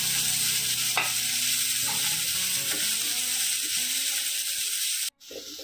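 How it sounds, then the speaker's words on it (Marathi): Onion sautéing in hot oil, a steady close sizzle running throughout with faint scraping stirs and a brief dropout near the end. "तेल गरम करून घ्यायचं आहे चांगलं। कांदा घालून घ्यायचा आहे पहिला आणि कांदा चांगला परतून घ्यायचा आहे।"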